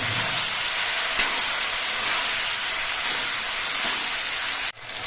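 Mutton pieces dropped into hot oil and cooked spices, a loud continuous hissing sizzle that stays steady for several seconds then cuts off abruptly, close and dominant, no talk.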